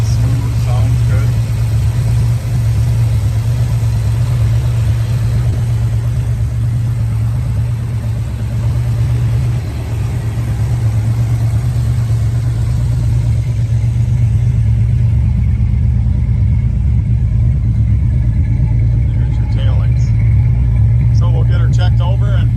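A muscle car engine idles with a deep, steady rumble, close by, holding a smooth, even tone for most of the stretch with only slight swells, and no voices over it.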